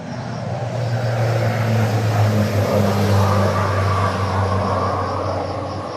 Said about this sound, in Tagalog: May mga eroplano tol na pabalik-balik.